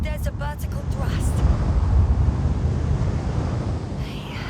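Spacecraft engines giving vertical thrust in the video game The Invincible, a loud continuous low roar like rushing wind that swells and holds, with brief voices at the start.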